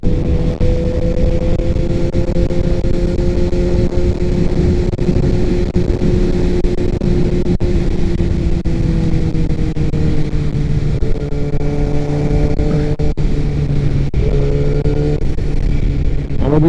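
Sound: riding a motorcycle on a winding road

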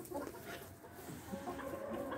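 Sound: hens clucking in a henhouse

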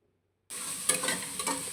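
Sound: chicken frying with turmeric, stirred in pan

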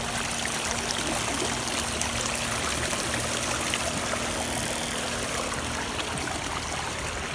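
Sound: water from water heater flowing through suck tube

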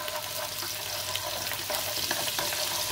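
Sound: garlic frying in hot oil in a pot

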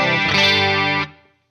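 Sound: Behringer UC200 Ultra Chorus effect pedal with high chorus level

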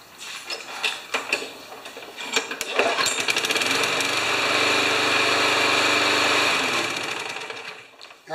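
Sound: Yard Machines lawn mower engine starting while hot

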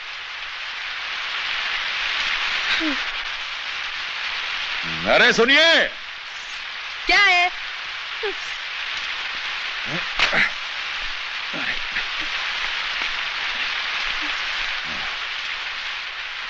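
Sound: rain

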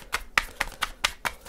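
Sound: tarot card decks being shuffled

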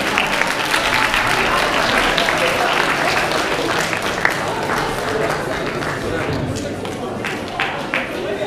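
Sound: audience applause after project presentation

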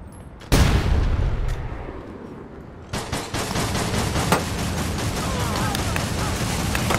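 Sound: grenade explosion and gunfire in the video game APB Reloaded

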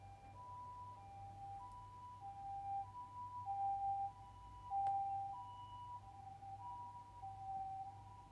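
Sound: siren of an emergency vehicle

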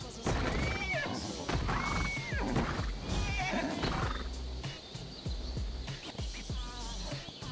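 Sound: horse neighing in video game ARK Survival Evolved

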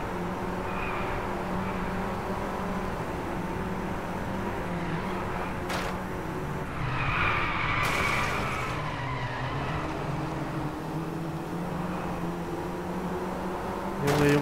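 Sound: race car at full throttle in video game Driveclub

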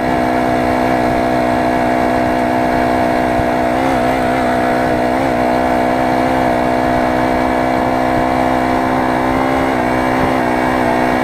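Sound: four-stroke moped engine running

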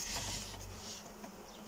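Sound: honey bees buzzing at opened beehive

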